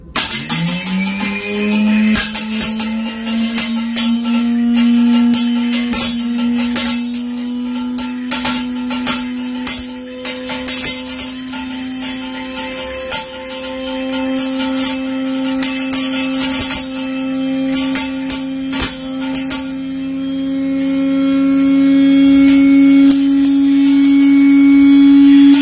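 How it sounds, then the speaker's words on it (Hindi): An electric grinder runs continuously, grinding salep (salab misri), a steady loud motor whine with rattling from the jar that rises slightly in pitch and grows louder toward the end, with no voices. "उसके बाद ये मैं ग्राइंडर लगा हूं चलाने।"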